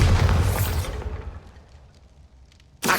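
A Bombarda blast spell in the game Hogwarts Legacy erupts loudly in a dense burst, then its rumble fades over the next two seconds before a second sharp impact hits near the end.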